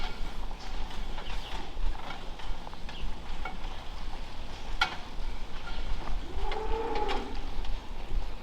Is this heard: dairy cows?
yes